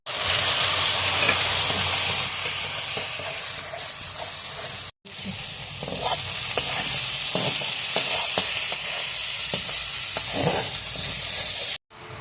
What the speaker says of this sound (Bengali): এখন পেঁয়াজ কুচি দিয়ে দিচ্ছি তেলে